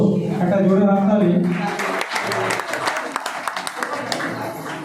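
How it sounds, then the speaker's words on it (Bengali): A crowd claps at a prize distribution during an Independence Day function, the applause rising as a dense patter of hands, with a voice speaking over it at the start. "একটা জোরে হাততালি।"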